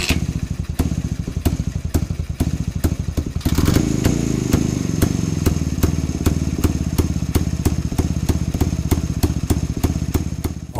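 A man vocally mimics an idling 1946 Jawa 250 cc two-stroke, twin-exhaust motorcycle with a steady, loud, rhythmic putt-putt of evenly spaced pops that runs alone throughout.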